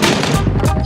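Loud, close bursts of enemy gunfire in the PUBG battle game, a dense rapid volley of shots packed into under a second.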